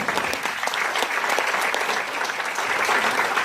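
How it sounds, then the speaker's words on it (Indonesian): A room full of audience members applauds steadily at an Indonesian company presentation, a dense, even wash of clapping that holds at a constant level throughout. "Kasih tepuk tangan Bapak Ibu."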